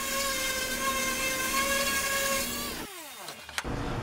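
Power sanding a routed wooden sign with 80 grit sandpaper gives a steady, loud whirring drone with a whining tone, which stops abruptly near the end and spins down with a brief clatter.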